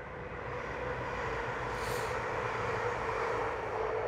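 A train passes by a garden planted with herb beds, a steady broad rumble holding at an even, fairly loud level for the whole stretch, with no voices over it.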